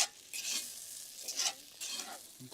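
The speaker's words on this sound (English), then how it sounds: "Stirring it." Lamb shank stew is stirred in a pot over a campfire with a spoon, giving several scraping swirls and a faint sizzle, close and quiet, with no voices.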